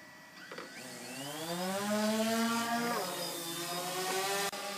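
A DJI Phantom 2 and a Blade 350QX drone hover together in calm air, their rotors making a steady, layered whine whose pitch drifts slightly and stays fairly close throughout.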